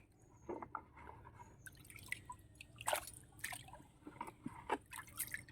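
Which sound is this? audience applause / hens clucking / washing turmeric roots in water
washing turmeric roots in water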